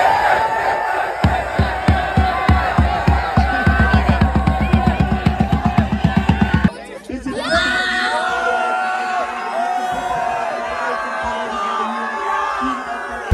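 Sold-out crowd of 5000 spectators at a football match, a loud massed roar with rhythmic chanting and regular claps for about seven seconds, then a sudden drop to a softer, diffuse crowd murmur with scattered shouts.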